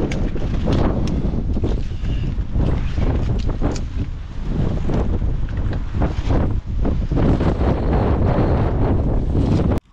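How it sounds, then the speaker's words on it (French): Heavy wind blasts steadily against the microphone, a loud, rough roar with gusty surges throughout and no voices. "je suppose qu'on va pas entendre grand chose avec le vent"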